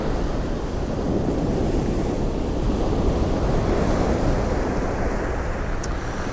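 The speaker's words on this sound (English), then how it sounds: "there's quite a few swells coming in anyway" Steady roar of sea swells breaking and washing onto a beach at Kilnsea on the UK east coast, dense and continuous with wind buffeting the microphone, no talk.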